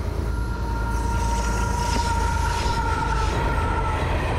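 A Florida East Coast Rail freight train hauled by LNG-powered locomotives rolls past close by, with a heavy low rumble, steady wheel noise and a faint high squeal throughout.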